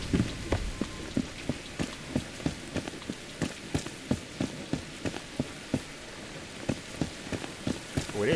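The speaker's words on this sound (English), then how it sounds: "It's downright pouring. Raining cats and dogs." Heavy rain pours at night in the video game Enshrouded, a dense steady hiss of rainfall broken by a regular run of sharp drip-like knocks throughout.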